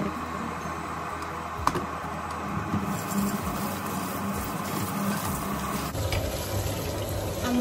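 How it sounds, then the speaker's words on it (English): Cooked low-carb pasta is rinsed under a running cold kitchen tap, a steady close stream of water splashing into the sink with small clatters and shifts as the noodles are moved, and nobody speaks. "Wash the pasta, use a cold water so it will not be sticky."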